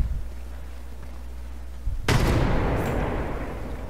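A grenade blast in Apex Legends, a sudden loud explosion that booms and rumbles away after a quiet stretch of low game ambience.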